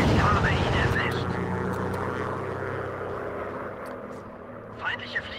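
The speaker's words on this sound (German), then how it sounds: "Feindliche Flieger nähern sich." Enemy WW1 fighter planes approaching in the VR game Wings, a loud continuous propeller engine drone that fills the scene and slowly eases off, with brief sharp game effects near the end.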